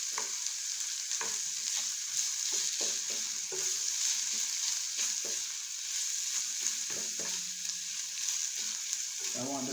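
Saltfish and vegetables sizzle steadily in a hot pan while being stirred and tossed, with a constant close frying hiss and repeated scraping and clattering strokes, and a voice speaking at times.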